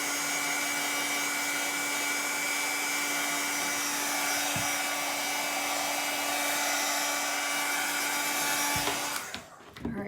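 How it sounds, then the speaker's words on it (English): A hair dryer blows with a steady, loud whirring roar for several seconds, with a couple of soft knocks, then cuts off abruptly. "I'm going to throw the dryer on this real quick"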